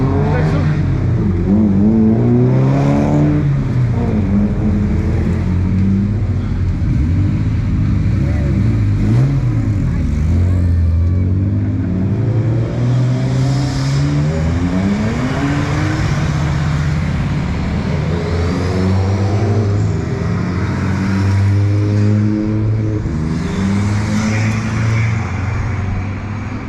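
Race cars of the Pocket Rocket, Clubman, Classic and Retro classes leave a time attack start at Anglesey, engines loud and revving up with rising and falling pitch, while a commentator talks over the din throughout.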